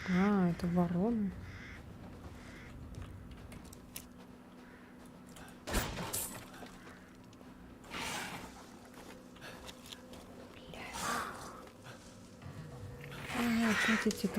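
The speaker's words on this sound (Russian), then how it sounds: "Это вороны." Crows cawing in Resident Evil Village, harsh repeated caws at the start and end over a dark game ambience with thuds, while someone talks at times.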